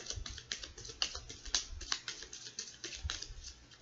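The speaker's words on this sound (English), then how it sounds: "I'm going to give this little deck 3 more shuffles" A small tarot deck is shuffled by hand at close range: quick, crisp card riffles and taps fall in irregular bursts that sound much like keyboard clatter, with no voice over them.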